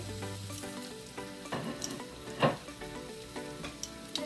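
Garlic and ginger sizzle in a hot pan with a bright crackling fry, punctuated by stirring scrapes and a sharp louder burst midway, and no one speaks.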